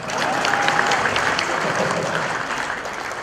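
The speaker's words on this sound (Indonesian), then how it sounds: "Tepuk tangan buat saya." An audience at a stand-up comedy show in front of a government minister gives sustained, loud applause, dense clapping that continues evenly throughout, with faint crowd voices underneath.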